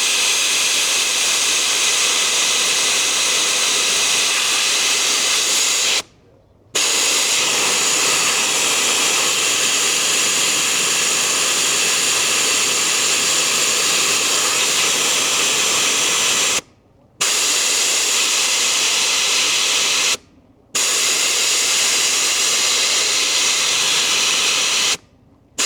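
Jaco Lightning RX4 rapid tire deflator venting air from a bulging off-road tire: a loud, steady, close rushing hiss, cut off by three or four brief silent pauses before resuming.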